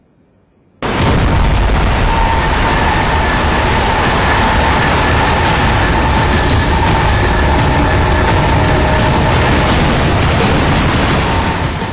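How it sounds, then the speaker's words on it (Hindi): A Japanese bullet train runs past with a loud, sustained broadband roar and rush of air that starts abruptly and holds steady throughout. "ये जापान की बुलेट है जिसने पूरे जापान की स्पीड बढ़ा दी।"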